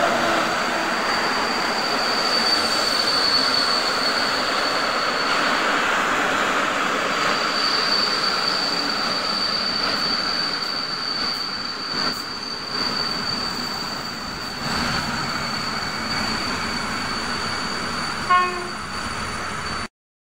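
An EU160 Intercity electric train departs a station, a long steady rolling rumble with a persistent high-pitched wheel squeal and a brief horn-like note near the end, fairly close and continuous.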